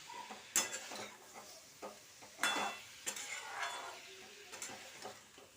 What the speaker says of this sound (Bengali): তার মধ্যে জিরে আর ধনের গুঁড়ো দিয়ে আবার উলট পালট করে কষিয়ে নেওয়া হচ্ছে